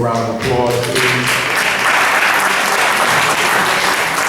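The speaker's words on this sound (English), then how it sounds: "Give them a round of applause, please." An audience at a community event breaks into loud, steady applause. A speaking voice is heard briefly at the start, then dense clapping fills the rest of the clip.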